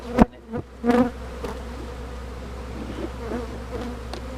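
Bees buzz at a low, steady level in an opened, neglected, abandoned hive, with a few sharper knocks and bumps near the start and no talking.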